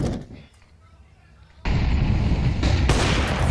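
An AWP sniper rifle fires during a Counter-Strike match. Quiet game ambience and faint chatter are cut by a sudden loud, sustained blast, followed by another sharp report, with noise and activity continuing close and dense.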